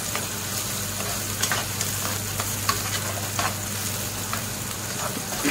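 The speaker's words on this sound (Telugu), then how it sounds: "చూడండి ఆనియన్ వేసాను. బాగా కలుపుకోవాలి, బాగా ఫ్రై చేయాలి ఆనియన్ని." Onions sizzle steadily in hot oil in a pan, with a constant hiss, a low hum beneath it and soft scrapes and taps as they are stirred, all close and without any voices.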